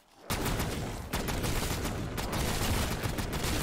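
Death Machine minigun firing in Black Ops 3 zombies, a sustained, dense roar of rapid gunfire that starts abruptly and continues loud and unbroken, with no talking over it.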